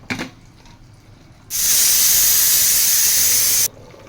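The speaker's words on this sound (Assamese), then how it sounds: "তাৰপিছত ইয়াতে 3টা চিটি মাৰিব দিম।" A pressure cooker of Assamese-style mutton curry lets out a single loud, steady steam whistle, a hiss lasting about two seconds that begins and ends sharply against quiet kitchen background.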